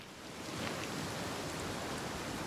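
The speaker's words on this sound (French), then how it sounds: "regardez-moi la pluie, man, les nuages et tout, là, l'atmosphère, les tonnerres et tout, là, les vagues" Heavy rain with crashing waves in the video game Senua's Saga: Hellblade II forms a dense, steady hiss and rumble, loud and unbroken, with no voices over it.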